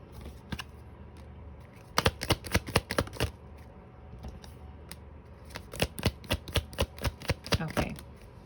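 Tarot cards shuffled close up, sharp papery snaps coming in two dense clusters separated by a quieter stretch with a few isolated flicks.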